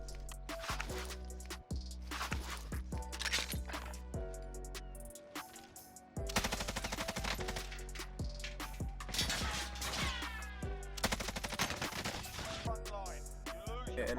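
Bruen rifle fire in Warzone crackles in repeated bursts over a steady music bed, with short pauses and a brief quieter gap partway through, near and fairly loud throughout.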